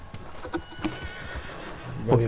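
A horse in Red Dead Redemption 2 neighs near the end, a close, loud whinny after a few soft hoof clip-clops and faint background sounds.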